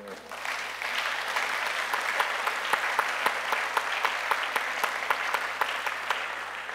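A church congregation claps in a dense, steady wave of applause that fills the room for several seconds, with rhythmic louder claps on top and voices mixed in beneath.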